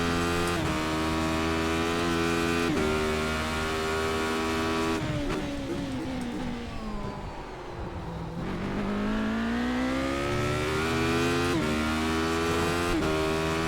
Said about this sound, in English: Radical Engine ASMR.